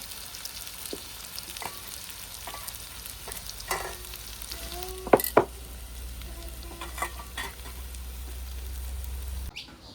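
Garlic added to a pan of jackfruit curry sizzles in a steady low crackle, broken by a few sharp clinks and scrapes of stirring, with no voices.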